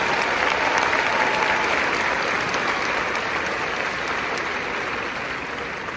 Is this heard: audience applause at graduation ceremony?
yes